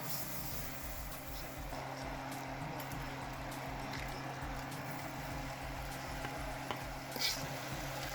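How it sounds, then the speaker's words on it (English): A heaping tablespoon of butter frying in a pan while cooking chicken Alfredo gives a steady, even sizzle with a soft crackle throughout, and no voices. "Go and fry up a good old heaping tablespoon of butter."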